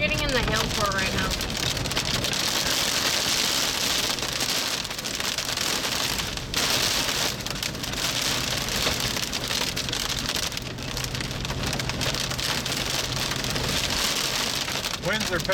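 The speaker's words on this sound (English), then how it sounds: "Winds are picking up here." Heavy rain and hail pound down during an Illinois storm chase as winds rise toward 60–70 mph, a dense, steady roar that stays loud and unbroken throughout, with faint voices under it.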